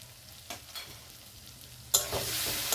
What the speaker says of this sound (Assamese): আৰু এতিয়া মই মছলাখিনি ভালকৈ ফ্ৰাই কৰি ল'ম 2 পৰা 3 মিনিট টাইম।